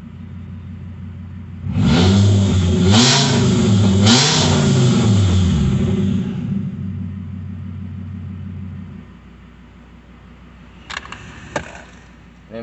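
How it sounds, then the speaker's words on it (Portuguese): Fiat Marea engine fitted with an exhaust diffuser in place of the catalytic converter, revved hard in several loud rising bursts, then settling to a rougher idle with a few brief sharp sounds near the end. "Agora o ronquinho dela é com o difusor de escape."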